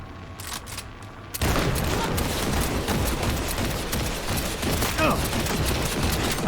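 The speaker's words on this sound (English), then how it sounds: "firing from the hip without a crosshair is not that easy with that weapon. It has a lot of recoil" A weapon fired from the hip with heavy recoil in Cyberpunk 2077, breaking into a continuous rapid barrage after a short lull, loud and close, with game sounds underneath.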